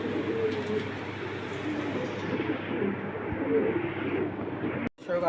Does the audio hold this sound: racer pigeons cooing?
yes